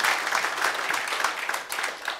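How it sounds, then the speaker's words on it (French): Plenary assembly audience applauding Father Elvis Elegabeka, a steady, fairly loud patter of many hands clapping for a couple of seconds. "On peut applaudir le Père Elvis"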